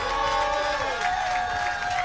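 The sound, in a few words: crowd applause and cheering at a parade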